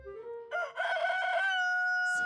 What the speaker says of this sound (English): Since when does Big Apple City have a rooster?